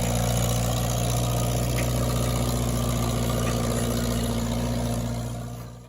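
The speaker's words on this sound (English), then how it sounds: "I'm bringing the tractor back to the sugar shack" Tractor engine idling steadily at a maple sugar bush, a continuous low rumble that stays up close, loud and even, then tapers slightly at the very end.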